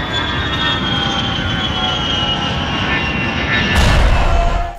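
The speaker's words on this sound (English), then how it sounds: "TNA gave the wrestler with Persian heritage a plane crashing sound effect at the start of his entrance music." A plane-crash sound effect opens a TNA wrestler's entrance music: a loud, steady roaring jet-engine drone builds and then breaks into a sudden heavier burst near the end.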